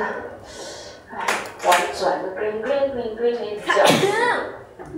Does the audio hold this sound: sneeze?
yes